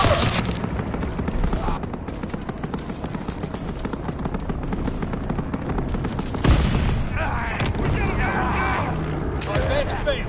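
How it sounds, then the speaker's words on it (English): Heavy aircraft gunfire and machine-gun bursts in a PS4 war video game form a loud, dense fusillade, mixed with a distinct boom and mechanical clatter while battlefield voices call out. "Aircraft fire incoming!"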